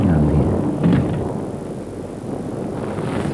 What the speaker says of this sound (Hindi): बहुत जोर जोर की आंधी है।